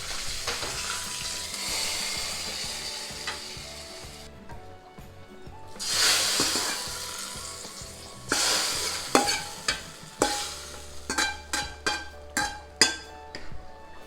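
Cumin seeds, dried red chillies and curry leaves sizzle and crackle in hot oil during tempering, with a stirring spoon scraping and clinking against the pan and sharp spattering bursts toward the end.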